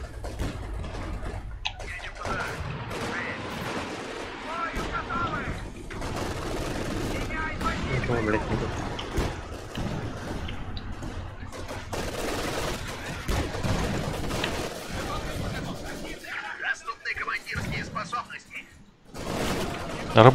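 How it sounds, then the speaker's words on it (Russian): Machine gun fire in the World War II strategy game Company of Heroes 2, sustained rattling bursts among dense battle noise and explosions, heard under continuous talk from a player. "сейчас пулемет за ваншотил"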